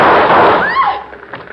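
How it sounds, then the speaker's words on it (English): Loud staged explosion effect in a 1949 crime radio drama, a broad booming burst that fills the first second then decays into a faint rumble, with a short fizzing whoosh trailing off. "Explosion."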